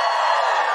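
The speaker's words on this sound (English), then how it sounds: "Just give us a cheer if you listen to The Guilty Feminist." A live comedy podcast audience in Perth, Australia cheers and whoops loudly in a dense, sustained burst of crowd noise.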